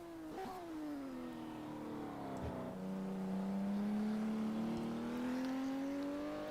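Classic Porsche race car from a South African Classic Porsche Cup round at East London in a racing simulator, its engine note climbing and shifting through gears, then holding a steady loud drone as the car crosses the line, with no talk.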